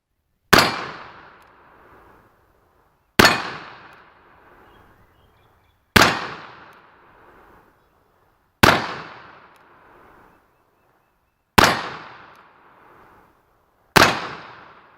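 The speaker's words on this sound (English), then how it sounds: "I'll shoot it some more and verify that I'm not getting any shrapnel back down in my action." Six loud, sharp gunshots from a Pietta 1860 black powder cap and ball revolver, a Colt replica, fired outdoors at steady intervals of about two to three seconds, each blast ringing off with a short decaying echo.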